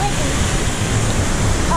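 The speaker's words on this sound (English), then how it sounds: "Look at this waterfall." Waterfall behind a waterslide at Atlantis water park in the Bahamas, a steady broadband rushing roar filling the whole short stretch, close and loud.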